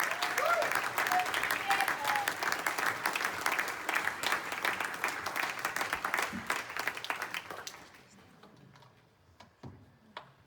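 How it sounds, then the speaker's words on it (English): A congregation at a Mother's Day church service applauds the next speaker with a loud, thick wash of clapping that thins out and fades after about eight seconds, leaving a few scattered claps. "Do you want to give her a round of applause?"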